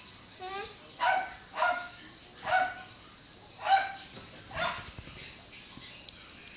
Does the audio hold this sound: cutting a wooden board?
no